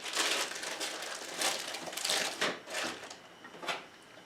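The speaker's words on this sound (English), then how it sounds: "I'm going to take a little plastic bag, cut off the tip, put it in another bowl" A small plastic bag crinkles and rustles as it is handled for piping whipped body butter, irregular close crumpling bursts that fade toward the end, with no speech.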